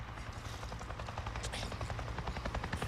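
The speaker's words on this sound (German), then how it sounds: "Ernsthaft ein fucking Heli?" Helicopter flying overhead in the video game Days Gone, a faint steady rotor chop with rapid rhythmic thumping and broadband rumble running continuously without voices.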